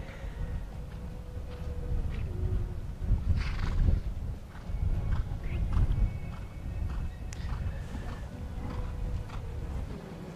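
Horse cantering in an extended canter during a dressage test at a grand prix eventing competition: faint, muffled hoofbeats and thuds over a steady outdoor background, with no clear talking.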